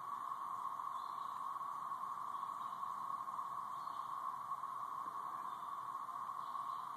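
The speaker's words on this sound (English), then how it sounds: "It's just bugs in the trees." Cicadas, seven-year locusts, drone from the trees on a Saturday morning, a steady unbroken high buzz like a distant siren coming from all directions, with no speech.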